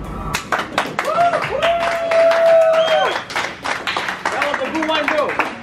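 An audience at a 21st birthday celebration claps irregularly amid crowd noise, with a voice singing and others talking over the scattered, fairly loud claps.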